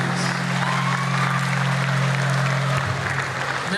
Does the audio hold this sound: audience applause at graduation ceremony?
yes